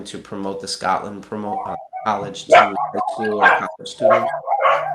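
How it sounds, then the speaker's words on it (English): Dogs bark and yip in the background while someone speaks over them, short sharp barks scattered through the talk and fairly close. "Sorry about my dogs there."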